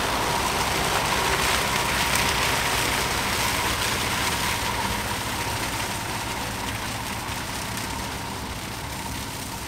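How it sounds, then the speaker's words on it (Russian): A tractor mows and mulches hogweed down to the ground, its engine a steady, loud, continuous drone with a broad cutting roar that holds evenly throughout. "Трактор сейчас работает."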